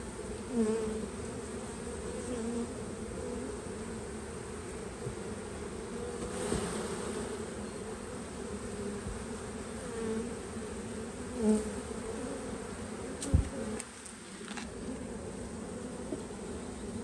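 Honey bees swarm around an open hive while frames of brood are lifted out, making a steady, dense buzzing that fills the whole stretch with a few louder passes nearby.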